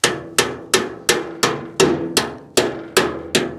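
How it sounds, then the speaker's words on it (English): A hammer strikes the steel door of a PJ 7x14 14K low-pro dump trailer to beat it back into place. There are ten sharp metallic blows at a steady rhythm, close and loud, each ringing briefly, with no talking. "So you have to beat that thing with a hammer to get that back down there to be able to put your pin back in."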